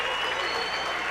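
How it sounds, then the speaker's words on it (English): A basketball crowd at a Powell Panthers home game claps steadily in rhythm through the starting-lineup introductions, a dense, loud wash of hands that fills the gym with no pause. "the crowd rises to their feet and begins the rhythmic clapping"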